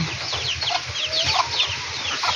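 Chickens clucking at a poultry farm in a rural village: rapid overlapping clucks and short calls from several birds, fairly near, over a low steady background hum.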